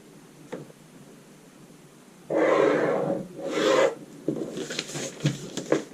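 A pencil draws lines on a paper pattern draft for a halter top, giving several short scratchy strokes of varying length, close and fairly loud, with quiet room noise between them.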